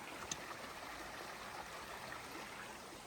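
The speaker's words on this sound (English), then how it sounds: "You'll hear the river." A river beside the Appalachian Trail in the Smoky Mountains rushes in a steady, even wash of flowing water, continuous and moderately distant, with no voices.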